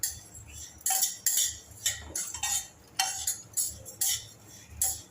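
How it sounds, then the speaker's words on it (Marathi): Vermicelli roasts in a pan over medium heat while a spoon stirs it in repeated quick strokes, giving dry scraping swishes and light clinks against the metal, close and without speech. "शेव लालसर होईपर्यंत भाजून घ्यायची."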